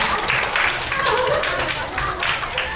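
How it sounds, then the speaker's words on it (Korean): Audience applause for a speaker at a winter youth camp concert event, broadband clapping throughout with voices mixed in. "다시 한번 크게 박수 해주겠습니다"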